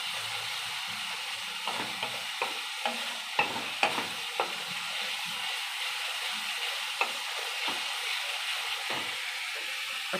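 Spiced masala for a duck egg curry sizzles steadily in a pan while a spoon scrapes and stirs it in repeated strokes, close up, with no voices.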